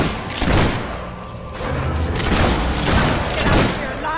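Gunfire and combat blasts in the Fable III video game, repeated loud thumping shots and booms with voices talking amid the noise.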